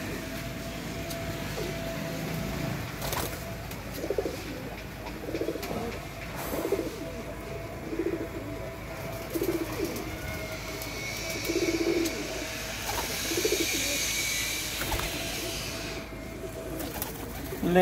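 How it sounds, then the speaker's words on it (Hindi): Pigeons, including a golden one, coo in soft repeated bursts through an outdoor yard with steady background noise and faint passing traffic. "ले जी ये कबूतर आ गया वो कल वाला गोल्डन कबूतर मियां नज़ीर वाला।"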